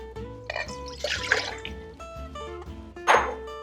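Milk poured into a bowl for classic croissant dough gives short splashing, trickling bursts, the last one louder, over a faint tonal background hum.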